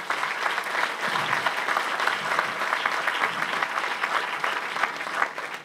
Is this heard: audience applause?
yes